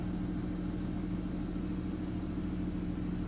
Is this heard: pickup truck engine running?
yes